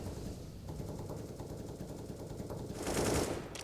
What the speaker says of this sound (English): Bullets being spammed